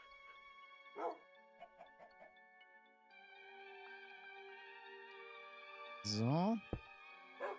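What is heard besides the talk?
dog barking in Minecraft video game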